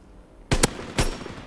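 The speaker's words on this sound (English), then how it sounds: "I just took a guy out with a pistol." Pistol shots in a shooter video game crack out sharply, two quick reports close together then a third a beat later, loud and close with no talk over them.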